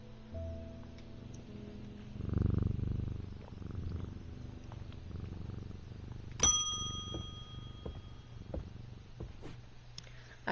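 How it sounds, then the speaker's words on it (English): A little gray cat in a video game purrs steadily as it is petted, a soft continuous low rumble that swells briefly louder, accompanied by occasional chiming dings and a bright ringing tone. "And if you pet him, he purrs."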